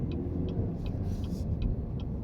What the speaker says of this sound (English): It's actually a little bit smoother than the engine that was in the previous generation car.